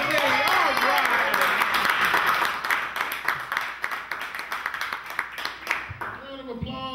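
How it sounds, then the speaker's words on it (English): Audience at a live basement show clapping and cheering loudly in a dense burst that gradually thins into scattered claps, with voices calling out over it. "So big round of applause for right."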